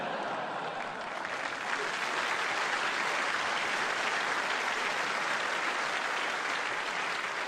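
A political party conference audience breaks into steady, broad applause, a dense hall-filling clatter of many hands that holds evenly at moderate level from start to finish.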